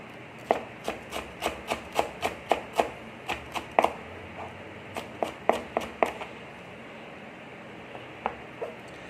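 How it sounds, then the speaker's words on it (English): A knife roughly chopping green cilantro on a cutting board, about fifteen sharp, close taps in a quick, fairly regular rhythm, then a few slower scattered strokes toward the end. "And let's use some nice green cilantro. Let's give it a nice rough chop."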